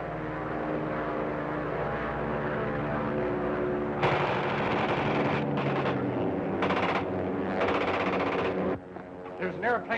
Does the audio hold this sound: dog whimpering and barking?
no